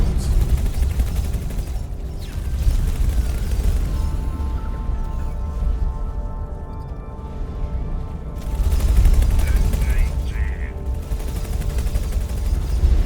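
Missiles and turret fire in the space game X4: Foundations, dense rumbling bursts of gunfire and explosions rolling continuously, swelling louder toward the end.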